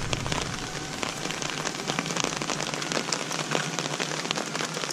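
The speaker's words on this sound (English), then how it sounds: "Rain's picking up, folks." Steady rain falls outdoors during a free-ranging walk with husky dogs, a dense continuous patter of drops hitting surfaces close by, with scattered sharper ticks and no voices.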